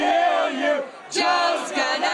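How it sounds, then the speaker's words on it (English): Wrestling arena crowd chanting in unison in two rhythmic bursts, loud and massed voices rising and falling with a brief dip between chants. "Spider-Man comes out to the crowd chanting, kill him, kill him, kill him."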